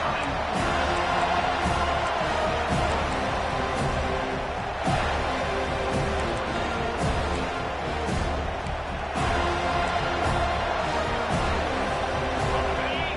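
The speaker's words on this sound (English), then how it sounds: "Decibels rising as the crowd gets behind this defense on third down." Stadium crowd in an NCAA football video game roaring for the defense on third down, a dense, loud, sustained din with periodic swells and sharp thumps, continuous for the whole stretch.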